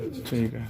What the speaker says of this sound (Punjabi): ਹਾਂਜੀ, ਇਹ ਸਾਰੇ ਬੱਚਿਆਂ ਵਾਲੇ ਕਬੂਤਰ ਨੇ।